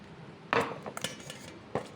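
Cut raw mango pieces, about 1.5 kilos, tumble into a vessel in a few sharp clattering bursts with softer knocks between, close and fairly quiet.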